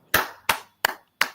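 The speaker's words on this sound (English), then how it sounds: "Please clap for Sandra." Four sharp, separate claps land at a slow, even pace for Sandra at a parenting conference event. They are close and crisp, with silence between them and no voices.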